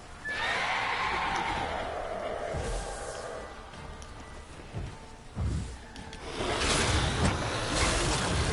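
Roach, Geralt's horse in The Witcher 3 video game, whinnies over rolling surf-like ambience and hoofbeats, with a louder burst of noise near the end.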